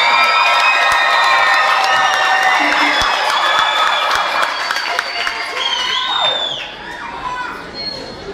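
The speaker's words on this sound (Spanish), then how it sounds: "Démosle un aplauso y luego silencio" Audience applause and cheering fill the hall at the final of a singing competition, a dense, steady wash of clapping from a large crowd that thins slightly toward the end, with some voices and whistles mixed in.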